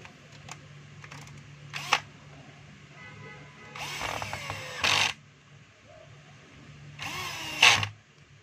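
A small power drill drives screws into a cover, with quiet short whirring bursts separated by pauses and light handling clicks.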